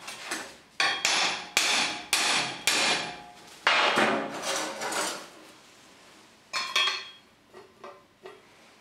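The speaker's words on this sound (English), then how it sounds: "I'm just going to give it a gentle tap." A hammer tapping a welded steel angle bracket, a series of about eight sharp metallic knocks, close and loud, evenly spaced at first then a quieter cluster of lighter taps after a pause.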